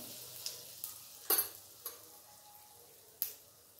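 Mustard seeds and asafoetida dropped into hot oil for a bottle gourd stir-fry, a faint sizzle broken by a few sharp pops and crackles, with a couple of louder spluttering bursts.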